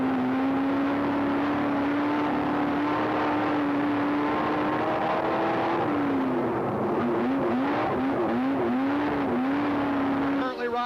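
Super stock race cars on an oval track in 1993 drone steadily after a restart, their engine whine rising and falling in pitch as they accelerate and lift through the turns, with a commentator's voice running over the noise.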